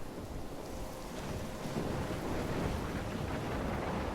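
Heavy rain and rumbling thunder from a storm in the video game Life is Strange, a dense, continuous wash of rainfall with a deep rolling undertone that swells slightly midway, steady and enveloping with no voices.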